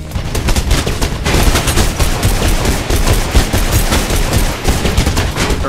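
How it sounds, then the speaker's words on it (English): Loud, continuous machine gun fire from a firefight in the Mirror's Edge video game, set in a mall. It rattles off in rapid dense bursts that fill the whole stretch. "they have a machine gun"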